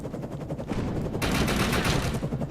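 Rapid automatic gunfire in the video game Defiance 2050, aimed at a tree, rattles in dense continuous bursts that grow louder and fuller midway through, with no talking.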